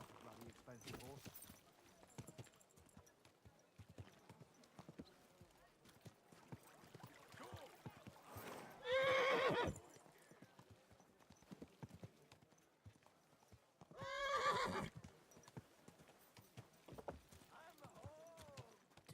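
Horse hooves clip-clop steadily in the medieval video game Kingdom Come Deliverance, with two louder bursts that sound like a neigh, while voices talk over the top throughout.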